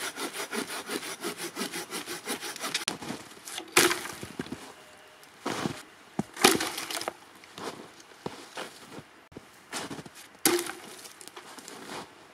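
A large piece of firewood is hand-sawed at a winter campsite in a beaver forest, with rapid rasping strokes at first, then slower, irregular pulls with sharper scrapes, heard close and fairly quiet.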